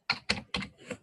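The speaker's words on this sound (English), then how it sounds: "I'm typing at Kenny Rowe" Typing on a computer keyboard: four crisp, close keystroke clacks in an uneven rhythm, the last one softer, with no talking.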